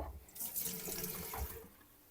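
Water running from a kitchen tap onto wet hands during home pizza making, a short close splashing gush that fades out within about two seconds.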